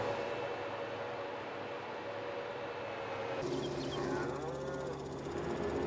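Cows in the Farming Simulator 22 game moo over a steady humming farm ambience, with a long low call rising midway through as the background shifts.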